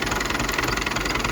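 A tractor engine idles close by, fitted with a front wrapper and a radiator mask against dust, giving a steady, loud diesel chug with a knocking pulse and continuous vibration, no voices.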